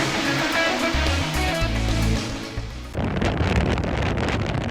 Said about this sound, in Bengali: বিভিন্ন জায়গায় ঝড়ো হাওয়া ও থেমে থেমে বৃষ্টি হচ্ছে